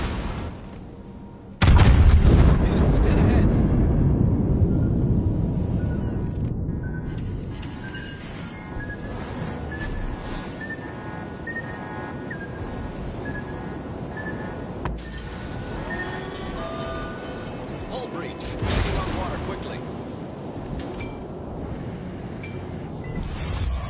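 Heavy warship gunfire in World of Warships Legends on PS4, with the Yamato and Yudachi involved: a loud boom lands near two seconds in, then low rumbling battle noise carries on, and another blast comes around eighteen seconds.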